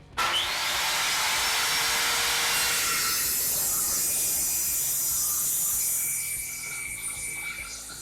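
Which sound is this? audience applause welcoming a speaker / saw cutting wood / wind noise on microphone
saw cutting wood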